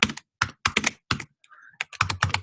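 Bursts of computer keyboard typing while entering a git commit, clustered keystroke runs separated by short pauses, close and fairly loud with no talking.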